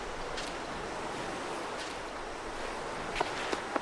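Waves wash onto the beach at Little Zoe Bay in a constant broad rush with wind, and a few faint crunching steps come near the end.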